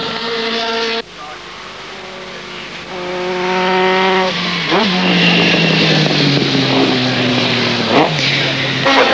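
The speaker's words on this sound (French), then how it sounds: "Une machine qui tourne très régulièrement devant des spectateurs très mouillés, très nombreux, très attentifs, au passage de la Honda numéro 5 de Faux et Frucci" Honda endurance racing motorbike, number 5, passing on the Nürburgring circuit in wet conditions during a world endurance championship race, its engine note rising and falling loudly over crowd ambience while a commentator talks throughout.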